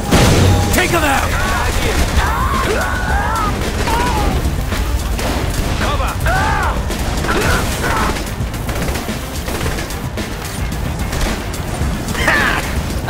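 Chaotic firefight against SWAT units in the Saints Row: The Third bank heist, a flashbang bang followed by dense, overlapping gunfire and bursts, loud and continuous with shouted voices over the top.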